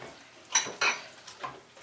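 Fettuccine noodles being stirred together with alfredo sauce in a pan: a few soft scraping, clinking strokes of a utensil against the pan, spaced irregularly and fairly quiet, with no talking.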